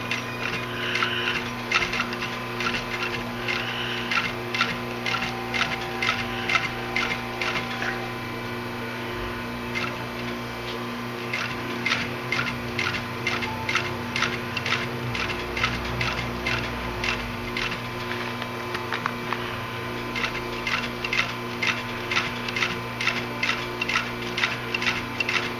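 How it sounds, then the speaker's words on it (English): A sewing machine stitches across the top of a leather clutch bag in close, rapid mechanical ticking bursts with brief stops and restarts over a steady motor hum. "we're going to sew across the top. I always start with a stitch and then a back stitch to lock it in."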